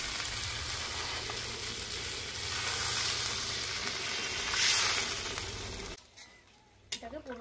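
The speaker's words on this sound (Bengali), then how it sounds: "কষানো আলুর মধ্যে জলটা দিয়ে দিচ্ছি।" Water poured onto sautéed spiced potatoes in a curry pan sets off a loud, rushing sizzle that swells for several seconds, then cuts off abruptly and leaves a few quiet clatters.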